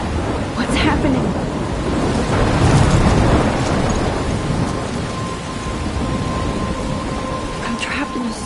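Thunderstorm with rain in the video game Life is Strange: steady heavy rain hiss with rolling thunder rumbles swelling and fading, loud and continuous throughout.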